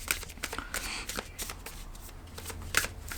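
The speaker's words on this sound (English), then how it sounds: "I'm going to pull cards for you, Pisces" Woodland Wardens tarot oracle cards being shuffled by hand, a quick run of crisp riffling bursts and soft slaps, close and fairly quiet, with no talking over them.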